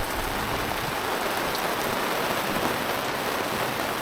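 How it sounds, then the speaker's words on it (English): Steady, dense rain pours down without a break, a loud even hiss of drops drumming on a nearby surface. "So, a lot of rain."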